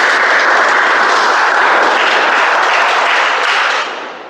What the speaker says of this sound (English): Can we have a round of applause for all the speakers